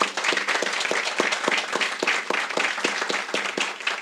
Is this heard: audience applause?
yes